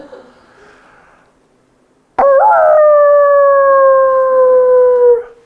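A man imitates a wolf howl with his voice, one loud sustained tonal howl that slides slowly downward and holds for about three seconds, close and alone after a quiet lead-in.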